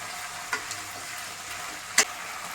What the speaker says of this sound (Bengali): নুনটা দেওয়ার পর আমি সবজিগুলোর সাথে মিশিয়ে নিচ্ছি।